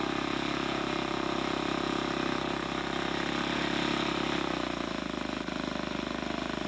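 Scale model aircraft engine, designed for a racing plane, idling steadily and loudly right after being started, a continuous buzzing drone with a slight dip in revs.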